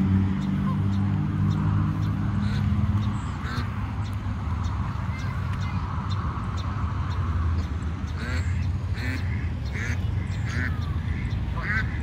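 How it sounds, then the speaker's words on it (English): Ducks quacking at a park, a run of short, repeated calls from several birds at moderate distance over steady outdoor background noise, growing busier toward the end. "You say no to the ducks?"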